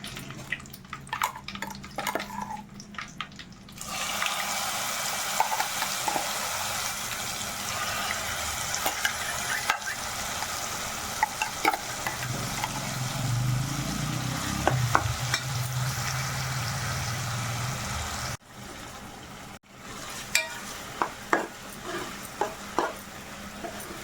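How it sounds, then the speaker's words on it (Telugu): A ground mustard seed, cumin, dried red chilli and turmeric spice mixture frying in a pan for spinach and onion curry, a steady close sizzle with frequent scraping stirs and short quiet gaps. "ఒక్క ఐదు నిమిషాలు బాగా మంచి అరోమా వచ్చేంత వరకు ఫ్రై చేసుకోవాలండి"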